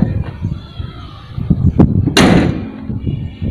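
The hood of a 2019 Toyota Vios 1.5 G CVT slams shut with one sharp, loud metallic bang, preceded by a lighter thud and rustling handling noise.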